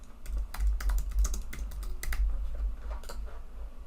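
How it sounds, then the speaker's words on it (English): Quick irregular keystrokes on a computer keyboard entering a label into a spreadsheet, bursts of close clicks with brief gaps over a low steady hum, no voices. "I'm just going to type in average, or maybe average customer count"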